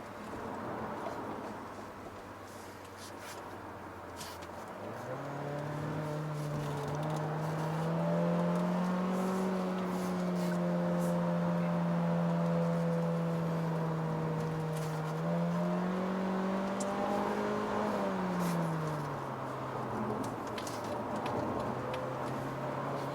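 A 2019 Mazda 3 2.0 litre hatchback in its highest trim, driving along with a steady engine drone that rises in pitch and then settles again, heard continuously from inside the cabin with no talk.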